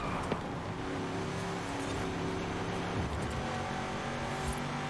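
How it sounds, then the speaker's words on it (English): A 1969 Ford Mustang Boss 302 V8 in Forza Horizon 5 drones steadily at high revs through a turn, its engine tone shifting slightly as it accelerates, loud and continuous with no talk. "I'll downshift to 4th here and see if I can get just a little more acceleration through that turn."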